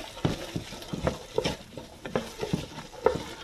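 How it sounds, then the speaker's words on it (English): Vegetables for vegan chili stirred in a pot, a rhythmic series of spoon scrapes and soft knocks over a light sizzle, close and moderately loud. "Just stir this."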